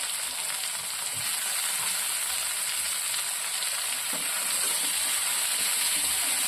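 Green chillies and tomatoes sizzle and fry in a pan while being stirred, a steady close crackle and hiss with occasional scraping, no talking.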